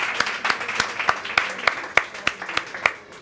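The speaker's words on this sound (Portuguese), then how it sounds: "Mais um aplauso." An audience at a Mind Talks 2024 talk event clapping in a slow, sparse rhythm of about a dozen distinct claps, fairly close and moderately loud, fading at the end.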